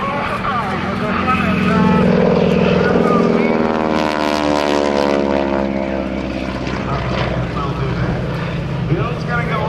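Propeller airplane flying a Flat 8 maneuver at the 2010 Blue Angels Homecoming airshow, a loud continuous engine drone with shifting pitch sweeping as it passes, steady throughout with a commentator talking over it.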